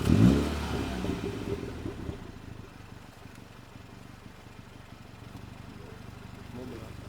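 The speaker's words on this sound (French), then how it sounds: "est-ce qu'on écoute le son de l'échappement" A Mini Cooper JCW exhaust blips loudly in a short rev at the start, then settles into a low, steady idle rumble.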